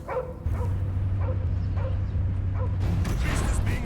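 Cosmo, the space dog in Marvel's Guardians of the Galaxy video game, barks several times in short yelps over a steady low mechanical drone and busy combat sounds.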